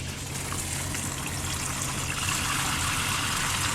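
Water from a city hookup rushes through a plumbing system on line pressure alone with no pump, a loud, steady, hissing gush that continues without a break.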